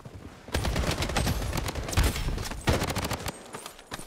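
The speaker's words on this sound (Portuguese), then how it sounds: "aqui eu dei um spray de qualidade incrível, hein? Todos os tiros eu acertei." An AK-47 sprays automatic fire in the Blood Strike game, a loud, dense burst of rapid shots lasting several seconds before trailing off.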